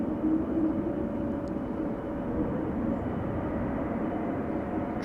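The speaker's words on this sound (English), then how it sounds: "in its wake is a 787-10 Dreamliner" A Boeing 787-10 Dreamliner at Amsterdam Schiphol Airport gives off a steady, moderately distant jet engine roar that holds evenly throughout with no speech.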